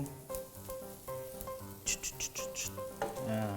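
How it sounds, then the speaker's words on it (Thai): Garlic frying in a little oil in a pan while making Thai stir-fried noodles, a steady close sizzle under a musical backing with a few brief bursts of stirring. "ถ้ารู้สึกว่าน้ำมันน้อยไปเติมน้ำมันสักเล็กน้อยนิดนึง"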